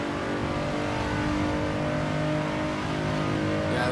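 A 400hp slammed Nissan Z34 370Z is driven flat out through traffic, its engine droning loud and steady at high revs in a continuous strained roar with no break.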